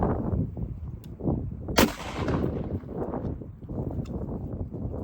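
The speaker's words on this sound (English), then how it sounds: "now 50 Beowulf firing." A .50 Beowulf rifle fires one sharp, loud shot at a stack of tires outdoors, a single crack with a short tail over steady background rumble.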